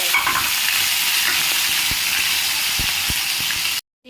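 Cinnamon drops into hot oil for tempering and sizzles loudly and steadily up close, with a few soft knocks underneath, before the sound cuts off sharply at the end.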